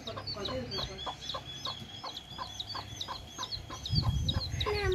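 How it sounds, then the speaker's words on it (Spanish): A small hen clucks in a steady run of short calls while her three tiny chicks peep high and thin around her, outdoors, with rustling near the end. "esta gallinita es como Jirita. Y ya anda aquí con tres pollitos"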